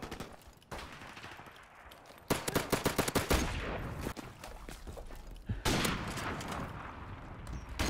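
Rapid bursts of gunfire from online multiplayer in Modern Warfare Remastered, loud and dense, with a sharp volley near the middle and sustained shooting throughout.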